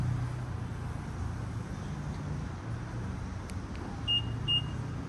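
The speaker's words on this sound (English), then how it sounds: "2 beeps to unlock the car, 1 to lock it." Two short electronic beeps from a BMW F-chassis car unlocking sound faintly near the end, over a low, steady background rumble.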